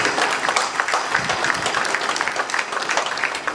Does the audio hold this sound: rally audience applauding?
yes